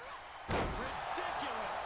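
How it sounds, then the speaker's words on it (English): A single heavy body slam onto the mat in the wrestling game WWE 2K23, a sharp loud thud followed by lingering crowd roar, with a commentator's voice talking over it. "slams her down, too."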